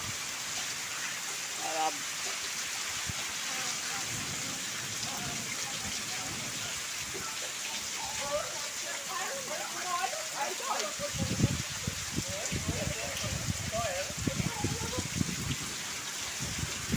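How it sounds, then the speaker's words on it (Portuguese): Heavy rain pours down in Ceará, Brazil, a steady dense hiss throughout, with voices talking intermittently beneath it. "E a chuva continua, só dá um toró."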